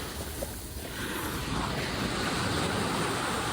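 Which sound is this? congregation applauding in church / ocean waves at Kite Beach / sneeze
ocean waves at Kite Beach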